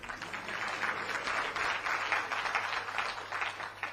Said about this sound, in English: I want you to clap on this.